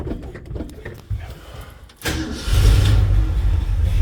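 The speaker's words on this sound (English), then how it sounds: "I taught myself how to start an American truck from the 70s." A 1970s Ford F-250 truck engine cranks briefly, catches and fires up, then settles into a loud, rough, rumbling run close by.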